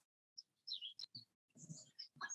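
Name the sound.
birds chirping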